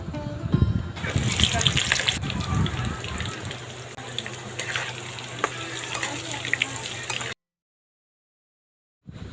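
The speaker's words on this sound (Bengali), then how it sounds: "এবার আলুটাকে আমি তেলের মধ্যে দিয়ে ভেজে নেব।" Diced potatoes sizzle loudly in hot oil for a soybean chunk curry, a dense, steady crackle with faint voice-like sounds beneath, before cutting abruptly to near silence at the end.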